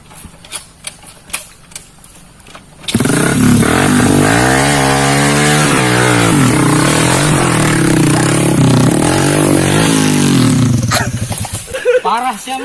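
Motorcycle engine revving hard and close for about nine seconds, its pitch rising and falling, after some brief clatter. Voices shout over the roar.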